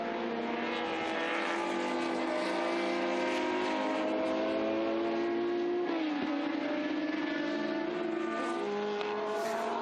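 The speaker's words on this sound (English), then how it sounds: "Roberto Turiziani in the Ozella with its BMW power plant" Osella historic race car with a BMW engine roaring steadily past at close range, its engine note loud and sustained for the whole stretch with a slight pitch shift midway, no voices over it.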